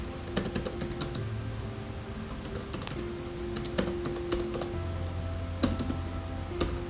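Typing on a computer keyboard, close and light, with irregular bursts of soft key clicks over a faint steady background hum.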